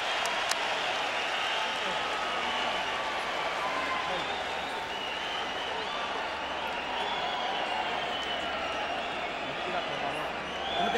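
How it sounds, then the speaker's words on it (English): A boxing arena crowd applauds and roars in a steady, distant wash of noise during a fight between Juan Manuel Marquez and Marco Antonio Barrera, with commentary voices faintly under it. "And the crowd rises to appreciate the intensity of this war."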